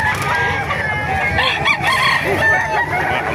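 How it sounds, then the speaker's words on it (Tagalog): Roosters crow and cluck among a crowd of fowl at a busy chicken market in Bocaue, Bulacan, with layered overlapping calls near and far over steady market bustle. "Ayan, mga manok ni Tatay."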